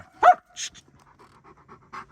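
A dog pants in short close breaths, a few quick huffs spaced across a couple of seconds in a quiet room.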